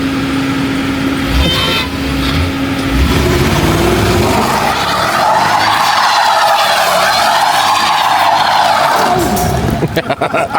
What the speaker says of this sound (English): It drifts all right though.